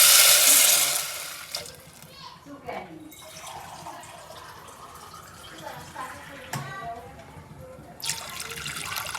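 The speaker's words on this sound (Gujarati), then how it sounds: "હવે તેમાં પાણી ઉમેરો." A short rush of water pours into a cooking pot for khaman at the start and again near the end, with a voice talking in between.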